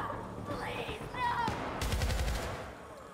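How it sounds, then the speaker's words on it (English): Gunfire in the PC shooter Syndicate, a rattling burst of automatic shots over a dense layer of game effects and a brief whooshing sweep. "did I shoot the wrong guy?"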